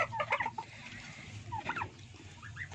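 A domestic turkey being treated for pox and facial swelling gives short, close clucks in two quick bursts, with a quieter call near the end and no talking.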